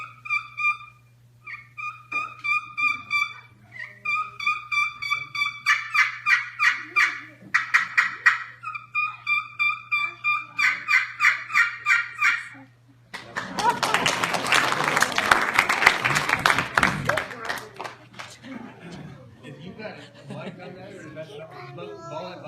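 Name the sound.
turkey call imitating hen turkey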